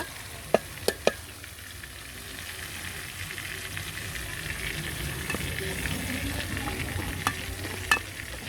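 Meat frying in oil with spices and green chili paste gives a steady sizzle throughout, punctuated by a few sharp clicks of a spoon against the pan near the start and again toward the end.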